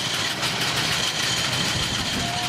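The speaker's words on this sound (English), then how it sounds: "Well, this is a huge Renault." A large veteran Renault car with a 20 horsepower engine idles nearby at a Brighton veteran car run, a steady, even mechanical chug and rumble sustained throughout.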